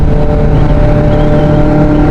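A QJMotor SRK 600 RC inline-four sport motorcycle holds a steady, loud, close engine drone with dense low harmonics through the whole span, sounding more like sustained revving than a single sharp blip.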